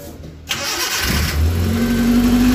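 A Suzuki Carry 1.0 injection engine cranks on the starter for a short burst, then catches and settles into a steady idle, close and loud.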